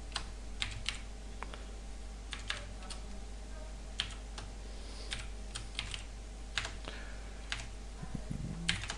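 Keys clatter on a computer keyboard as a copy command is entered in an Ubuntu terminal, sparse separate clicks over a steady low hum, close by with no talk.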